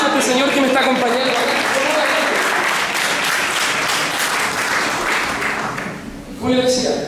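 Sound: audience applause for a volunteer

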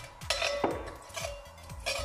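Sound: stirring cumin seeds in hot oil in a pan

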